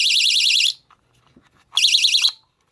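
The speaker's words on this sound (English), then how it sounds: "Bite alarms." An electronic fishing bite alarm on a catfish rig sounds twice, a loud warbling high-pitched electronic tone lasting under a second each time, with a short quiet gap between the two bursts.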